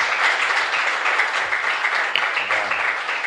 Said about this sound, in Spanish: Un fuerte aplauso para toda nuestra comunidad.